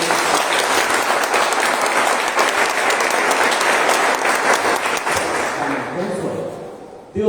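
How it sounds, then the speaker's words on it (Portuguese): Church congregation at a Christian service applauds visitors, loud sustained clapping from many people that tapers off near the end as a voice begins speaking over it. "E um aplauso para os nossos visitantes."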